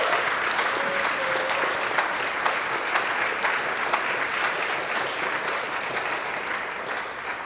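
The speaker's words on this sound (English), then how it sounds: "Let's give Erin a huge round of applause." An audience applauds a performer in a steady, dense round of clapping from a crowd, loud and sustained for several seconds and fading slightly toward the end.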